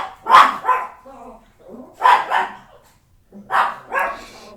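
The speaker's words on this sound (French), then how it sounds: "j'ai 6 chiens et c'est vraiment difficile de les faire taire aujourd'hui particulièrement" Three loud, close bursts of barking from a household of six dogs, each burst a pair of sharp woofs with a brief whimpering tail, spaced about two seconds apart.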